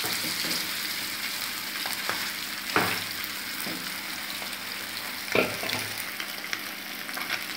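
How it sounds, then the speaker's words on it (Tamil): Sole fish frying in hot oil, a continuous bright sizzle and crackle with a few sharper pops and spits rising out of the steady hiss. "ஆயில் நல்லா ஹீட் ஆனதும் மீனை இதில் சேர்த்திடலாம்."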